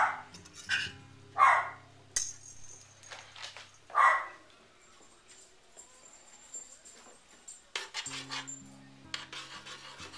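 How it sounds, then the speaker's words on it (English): Several dog barks ring out at a moderate distance, a few sharp bursts spaced irregularly over low background hum and some rustling. "You hear their dogs."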